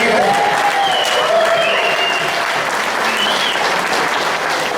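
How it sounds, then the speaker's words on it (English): Loud, steady applause from an audience at a political group's general meeting, with some cheering and whistles mixed into the clapping. "Why don't we give him another round of applause?"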